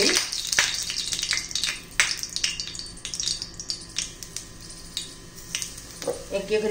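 Bitter gourd slices fry in oil on a hot griddle over low flame, giving a steady close sizzle broken by frequent sharp crackles and pops.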